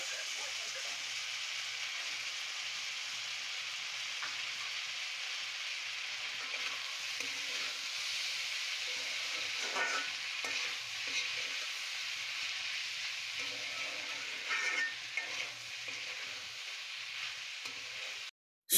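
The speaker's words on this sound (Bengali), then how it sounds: "এখন পেঁপে ভাজি করব" Papaya stir-frying in a home kitchen, a steady broadband sizzle holding throughout with a few brief stirring scrapes and small pops near the middle, moderately loud and close, no voices.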